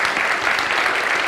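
Brief, steady burst of dense audience applause at a talk, fairly loud and even throughout.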